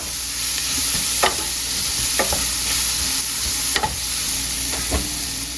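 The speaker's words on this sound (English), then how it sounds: "Let that garlic cook a little bit." Garlic cloves sizzle steadily in a pan for a Cajun cabbage dish, with a few stirring scrapes of the utensil punctuating the hiss.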